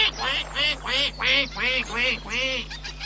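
A duck quacks in a steady series of about eight nasal calls, close and clear, as a storybook sound effect of a mother duck with ducklings.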